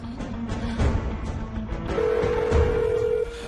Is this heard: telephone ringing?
yes